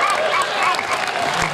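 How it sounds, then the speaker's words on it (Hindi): A crowd at a Hindi comedy poetry show bursts into loud, close applause, dense clapping mixed with a few cheers and voices throughout the short burst. "तालियों का महोत्सव होना चाहिए भाई"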